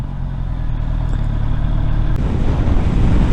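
Loud wind roar buffets the microphone over a low, steady engine drone from a Honda CBR650R E-Clutch with stock exhaust, building slightly while riding at speed.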